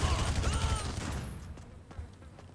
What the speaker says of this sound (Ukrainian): у порівнянні з топовим стріляє набагато гірше, ніж ніж Франклін